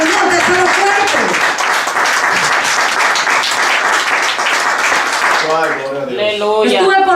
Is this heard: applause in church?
yes